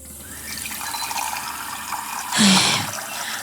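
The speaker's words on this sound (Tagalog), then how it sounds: "Malakas ng tubig, hindi gaya doon sa apartment." A tap runs strongly while dishes are washed, a steady rushing stream with a brief louder splash and gurgle partway through.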